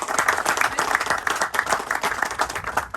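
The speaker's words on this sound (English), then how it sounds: "So if we could just give a round of applause for all their great efforts." An audience claps steadily at a hospital ribbon-cutting ceremony for McLaren Macomb, a dense and even round of applause from a crowd that holds its level throughout without fading.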